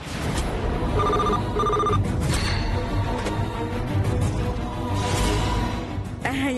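A telephone bell rings in repeated bursts in a domestic drama scene, loud and close, over a steady background music bed with no speech.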